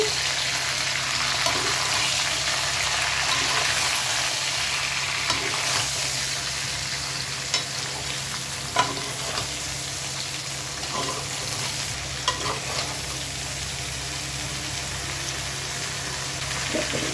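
Cauliflower and potato pieces fry in a pan with salt and chili powder, a continuous close sizzle broken by scraping stirs and clinks of the spoon, with brief faint voice in the background.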